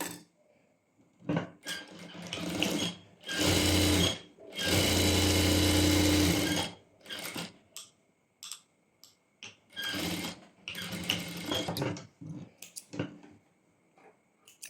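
Sewing machine double-stitching the crotch seam of a pair of pants, running in several loud bursts of rapid stitching separated by short pauses and handling noises.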